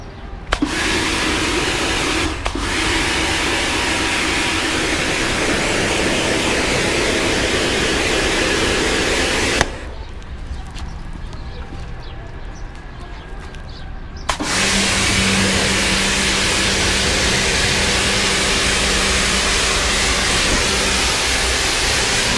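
A Kärcher K2 pressure washer, used for washing a motorcycle, runs with a loud steady motor drone, cutting out for several seconds midway and then starting up again.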